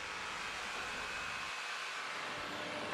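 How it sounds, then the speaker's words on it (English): Jigsaw cutting beech timber boards down to rough lengths in a workshop, a steady loud buzzing whine that runs continuously, with the low end briefly easing partway through. "I'm going to cut them down to rough lengths with the jigsaw"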